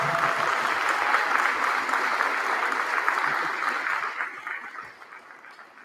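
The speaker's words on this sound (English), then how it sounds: "I'd like to give all these folks and Mr. Conrad a free round of applause" An audience at a school Christmas concert applauding warmly, a dense wash of clapping that holds steady and then fades out toward the end.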